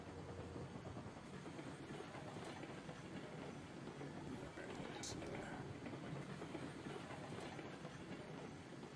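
A steam train in the video game Railroads Online rolls along with a steady, dense rumble and a faint clickety-clack of wheels, holding constant and fairly close for the whole stretch.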